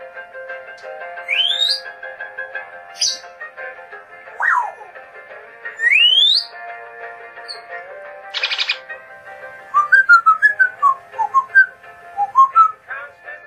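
A pet parrot whistles and chirps, reacting to music played on a browser: a string of rising whistles and sharp tweets, then a rapid burst of short chirps near the end, close and clear.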